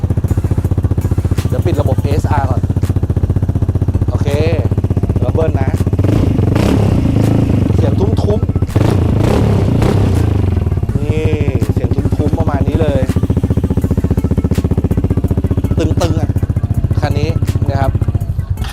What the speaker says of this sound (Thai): มันจะมีจุกลดเสียงนะ แต่ผมถอดออกเพื่อความเล้าใจ